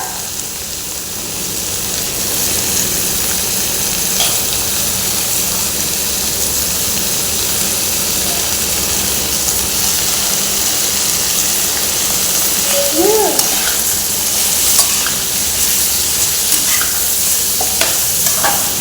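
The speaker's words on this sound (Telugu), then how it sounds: "ఇప్పుడు దీంట్లోకి వంకాయ ముక్కలు వేసుకోవాలి." Brinjal pieces fry steadily in a pan with a continuous close sizzle and crackle, occasional stirring scrapes, and a brief faint background sound near the end.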